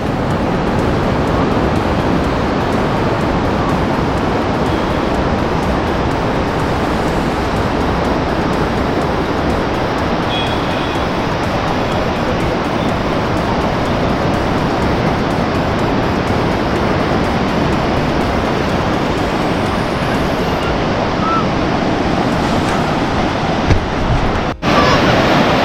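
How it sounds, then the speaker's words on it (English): Ocean waves at Dapoli beach at low tide wash in a continuous loud rushing surf, with wind buffeting the microphone over the roar and no talking. "You can see over here beautiful waves and their sound. It's low tide."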